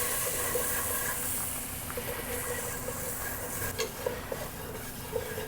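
Flour is whisked into melted butter in a pan to make a roux for mac and cheese, giving a steady soft hiss with faint scattered clicks from the whisk.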